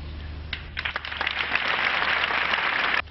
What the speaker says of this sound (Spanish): y una sonora ovación